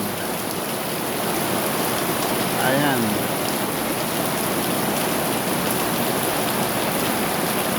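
Heavy rain pours steadily in a dense, continuous hiss, with a voice speaking briefly and faintly under the downpour.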